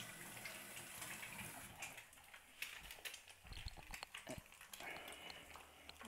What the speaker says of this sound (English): to wash my hands